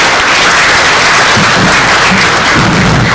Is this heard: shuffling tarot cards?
no